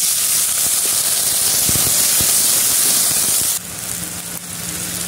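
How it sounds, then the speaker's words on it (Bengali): Water hits a hot pan of fried onions and chilies, a loud, close, steady hissing sizzle that drops sharply in level partway through and then settles into a softer bubbling hiss. "এখন পানি দিয়ে দিব।"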